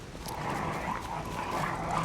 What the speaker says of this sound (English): Some sort of dog, I guess.